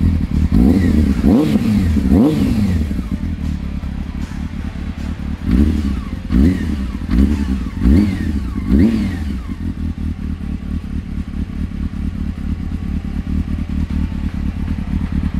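A Honda Hornet motorcycle engine idles steadily and is blipped several times in quick succession, each rev rising sharply then dropping, loud and close, before settling back into a rough, even idle.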